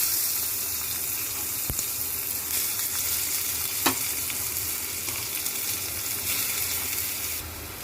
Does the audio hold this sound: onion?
yes